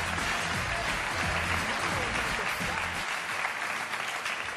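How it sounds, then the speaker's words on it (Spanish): Audience applause for a man named Derek on a summer hit show, dense and sustained through most of the stretch, tapering near the end with a few scattered claps and murmurs underneath. "¡Un aplauso para él!"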